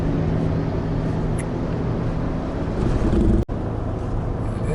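Ford F-150 EcoBoost V6 pickup towing a trailer up a steep grade on I-70 in the Rockies, holding about 3,500 RPM at 60 mph in fifth gear; a steady, loud engine drone and road roar continue throughout, with a brief dropout near the end.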